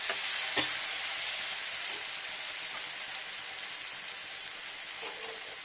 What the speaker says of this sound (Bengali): দেখুন ফ্রেন্ডস, এটা ড্রাই রোস্ট হয়ে গেছে